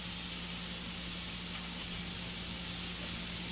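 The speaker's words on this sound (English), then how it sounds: "Listen to that sizzle. A nice sizzle." Continuous crackling hiss of burgers frying in a hot pan, steady and close, with a low hum underneath.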